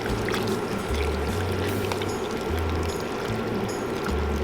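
Mushrooms are added to a pot of mushroom and bamboo soup and stirred in, giving continuous liquid swishing and pouring sounds close up, with a low hum underneath.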